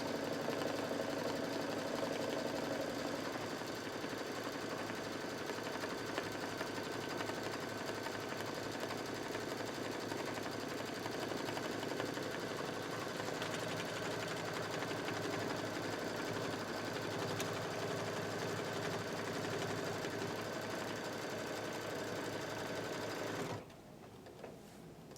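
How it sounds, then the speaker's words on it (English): An embroidery sewing machine stitching in the hoop gives a steady, loud, mechanical whir with a rapid stitching rhythm that runs unbroken for about 23 seconds and then stops abruptly. "the machine will go slow until you get over that spot and you leave go"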